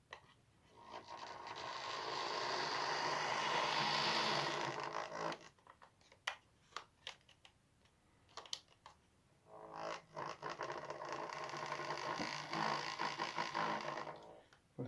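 A Lima Class 47 OO gauge model locomotive in Porterbrook livery runs slowly along a Mangley Town layout, its motor giving a steady whirring hum that fades into scattered clicks and clatter, then resumes.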